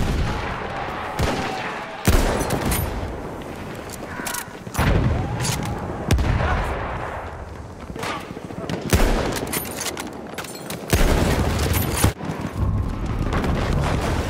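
Anti-aircraft guns fire in Battlefield 1, with loud, repeated bursts of heavy gunfire and booming shots over a busy battle din, partly under talking.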